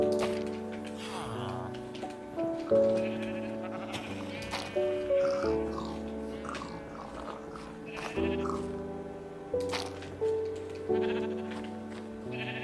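Sheep in the Minecraft video game bleat several times in short, repeated calls over steady background game music.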